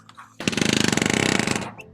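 A handheld magnetic nailing tool drives a nail into house framing for a DIY master suite addition, a loud rapid burst of about two dozen close, sharp hammering strikes lasting over a second.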